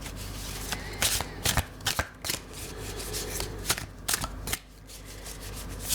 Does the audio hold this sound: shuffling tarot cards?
yes